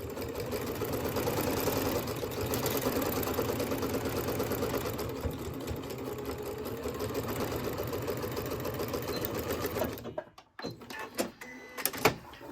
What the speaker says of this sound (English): I'm going to just start sewing this one right away